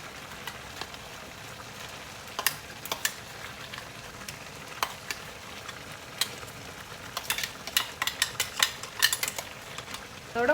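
A spoon stirs chicken pongal with salt in a pot, giving scattered scraping clinks and soft sloshes over a low sizzling bed, with the taps growing busier and denser toward the end.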